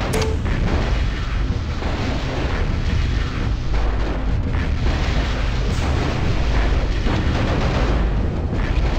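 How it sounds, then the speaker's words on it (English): Enemy weapons fire from battling mechs in MechCommander Gold, a dense, continuous roar of explosions and artillery-like booms, loud and unbroken for the whole stretch. "I'm taking enemy fire."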